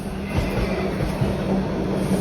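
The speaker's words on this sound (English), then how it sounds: "Oh, another train." A train rolls past on a cold December evening in downtown Toronto, a steady rumbling roar with faint rail hiss that holds at an even, moderately distant level throughout.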